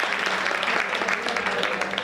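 Audience clapping at a Hindi kavi sammelan poetry recital, a dense, steady burst of applause for about two seconds.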